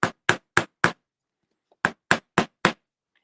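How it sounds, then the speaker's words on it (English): A nylon mallet strikes wire laid on a steel bench block: two sets of four sharp, evenly spaced whacks, close and loud, separated by a short silent pause. "I'm just going to take my nylon hammer or mallet and give it a couple whacks"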